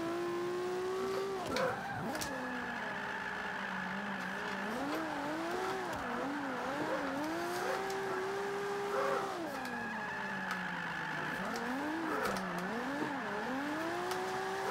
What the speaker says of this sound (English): Okay, lost control of the car.